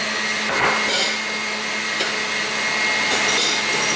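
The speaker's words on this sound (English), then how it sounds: "That won't take long mixing it up and on full speed whisk it through" An electric stand mixer runs at full speed whisking pavlova mixture, giving a constant whirring drone with a few light knocks from the bowl.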